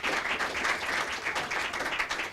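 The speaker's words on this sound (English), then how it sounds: "Andy deserves that round of applause" Applause for a departing staff member at a mayor's press conference, a short burst of steady, dense clapping from a room of people, loud and continuous throughout.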